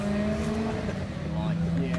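A race car with a Ford engine passes close by on a circuit, its steady engine drone and tonal whine holding loud for two seconds, with a faint voice underneath.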